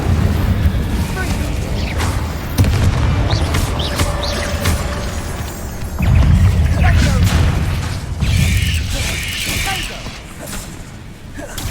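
An Incendio fire spell bursts with whooshing, roaring flame in Hogwarts Legacy during a spider fight, booming blasts layered over dense combat noise, with a voice shouting.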